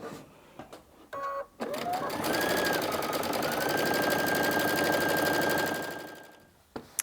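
A sewing machine runs a long continuous seam through a soft rag quilt, a steady close mechanical whir lasting several seconds after a few brief clicks, then stopping.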